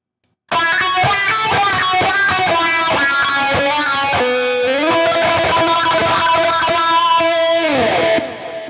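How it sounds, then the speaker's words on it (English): Electric guitar run through a software wah made from a high-pass EQ filter, thin, bright distorted chords and single notes with the low end cut away, loud and steady, stopping abruptly near the end. "And now with a high-pass filter."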